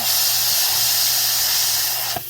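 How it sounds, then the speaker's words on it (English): Steam hissing steadily and loudly from a pressure cooker cooking beef stew, a constant bright jet that fades slightly near the end with a brief knock. "As you can tell, the steam is coming out."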